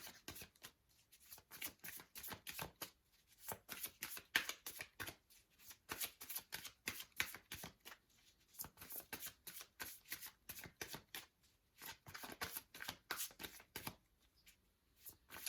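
Tarot cards are shuffled over and over, a rapid series of crisp riffling bursts with brief pauses between them, close and fairly quiet, with no voices.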